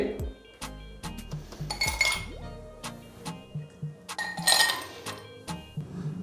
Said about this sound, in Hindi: सबसे पहले बर्फ डालेंगे